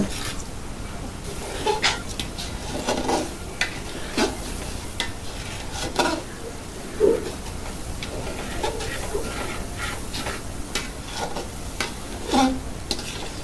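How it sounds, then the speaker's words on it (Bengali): Rice frying with spices and green chilli powder in a pan over medium heat, a steady sizzle broken by repeated scraping and knocking strokes as it is stirred. "ভালো করে নাড়াচাড়া করে কিছু সময় ভেজে নিতে হবে"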